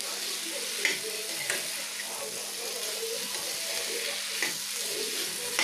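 Cauliflower cooking in spice masala in a pan for a dhaba-style gobi dish gives a steady soft sizzle and frying hiss, with faint stirring clinks and scrapes now and then, and no talking.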